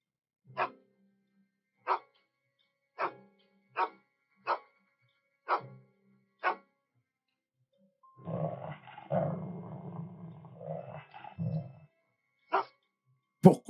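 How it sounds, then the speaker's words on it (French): A dog barks in a steady series of sharp single barks, then breaks into a low rumbling growl, then barks twice more. The sound is close and loud, with no talk over it. "Pourquoi est-ce que Scott aboie"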